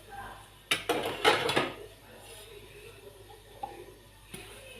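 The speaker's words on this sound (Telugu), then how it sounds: "ఇది ప్లేట్ ఉంటుంది కదా ఇడ్లీ కుక్కర్ది, దీనికంతా ఇట్లా నెయ్యి అప్లై చేసుకోవడం" Metal idli cooker plates being greased with ghee, a few close clinks and scraping clatters in a short burst, then quiet with one or two faint taps.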